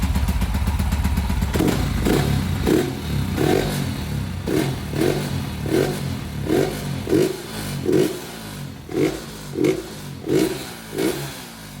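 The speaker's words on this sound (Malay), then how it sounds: "Okey, kita dengar dulu bunyi exhaust macam mana." A Yamaha Y15ZR motorcycle fitted with a Hypertech backpressure exhaust idles, then is blipped in a series of short, evenly spaced revs with a crackling edge, loud and close.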